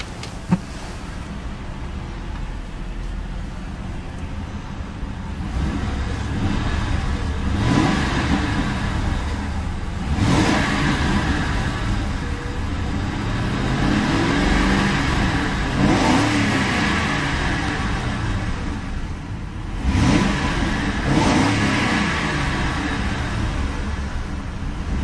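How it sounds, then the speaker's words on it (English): A 2006 Ford Crown Victoria LX Sport's modular V8 runs with a steady exhaust rumble, rising in several revving bursts and settling back to idle, loud and close throughout. "Gotta love the sound of that modular V8."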